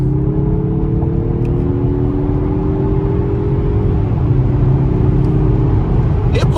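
A 2023 Mazda 3 hatchback accelerates through the mid-range in normal mode, not sport, with a loud steady engine drone heard from inside the cabin and tones rising smoothly in pitch.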